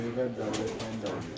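Pigeons cooing inside a pigeon loft, low soft rolling coos overlapping under a murmur of background voices, close and continuous.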